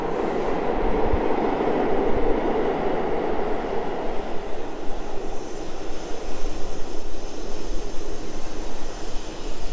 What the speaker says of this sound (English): This is the underground.